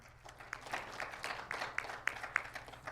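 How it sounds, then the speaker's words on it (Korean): An audience at a Korean women journalists' association 60th anniversary ceremony applauds to welcome a speaker to the stage, producing soft, scattered clapping that stays faint and distant throughout. "여러분 박수로 무대로 모시겠습니다"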